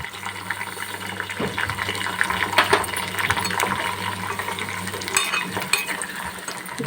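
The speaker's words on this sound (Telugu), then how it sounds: "మెంతులు కూడా వేద్దాం." Fenugreek seeds drop into a pan of homemade hair oil with scattered small clinks and pattering over a low bubbling, gentle stirring noises mixed in, no voices.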